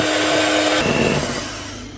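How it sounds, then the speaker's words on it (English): An electric whisk whirs steadily through double cream with sugar, a loud close motor hum that shifts in pitch partway and then eases slightly toward the end. "So you just want to whisk this slowly until it starts thickening, and slowly add in your sugar."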